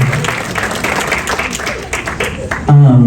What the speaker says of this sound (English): Which, yes, that's a good reason to clap.